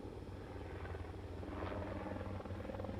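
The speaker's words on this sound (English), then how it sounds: "Helicopter" A helicopter from a Splatoon 3 video game trailer drones with a steady, low rotor thrum, faint and continuous, with no voices over it.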